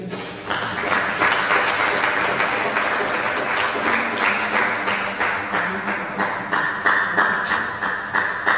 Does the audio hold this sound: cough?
no